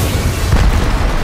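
A bomb detonating in the Apex Legends Mobile battle royale game, a loud, dense rumbling blast that fills the brief moment with heavy low-end roar and no voices over it.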